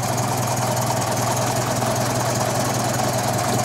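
A 1950 MG TD Midget roadster idles with its engine covers open, giving a loud, steady, even hum heard up close with no other sounds.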